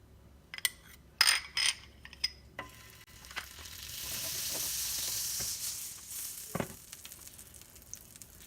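Butter sizzling in a pan over a low flame while making a veg sandwich, a soft steady hiss swelling midway, with a few clinks and taps of utensils near the start and a knock near the end.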